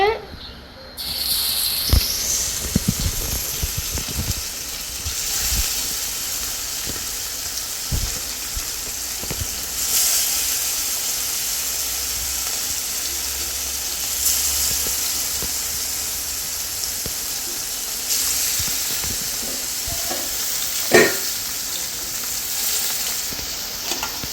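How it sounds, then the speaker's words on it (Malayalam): Fish frying in hot oil in a pan, a steady close sizzle and hiss that runs throughout, with occasional sharp crackles and pops and a few clinks of a utensil. "അപ്പോൾ നമ്മുടെ മീൻ ഇവിടെ നിന്ന് ഫ്രൈ ആവുന്നുണ്ട്."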